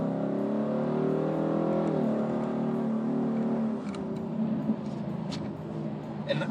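A Ford Mustang with a 10-speed automatic transmission accelerates. The engine note climbs and shifts through gears, close and moderately loud, then eases off toward the end.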